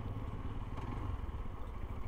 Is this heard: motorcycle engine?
yes